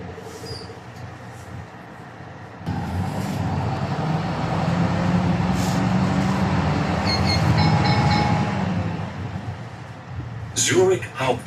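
A train rumbles steadily at Zurich Central Station, the largest railway station in Switzerland, with rolling rail noise and clatter building, then easing off, while a voice narrates over it.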